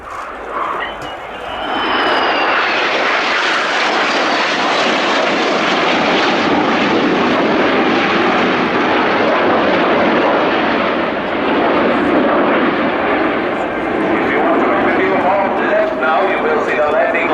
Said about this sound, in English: please welcome the Patrouille Swiss in the diamond formation